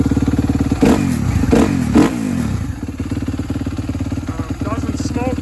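A 2016 Suzuki RM-Z250 dirt bike engine running close by, a loud rapid single-cylinder idle with a few blips of revving, while a person talks over it.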